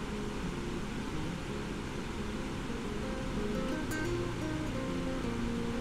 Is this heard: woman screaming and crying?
no